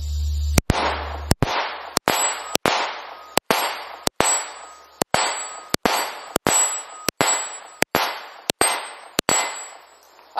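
Rifle shots ringing off steel targets outdoors, about a dozen sharp cracks at a steady pace, each followed by a metallic clang that rings and decays before the next shot.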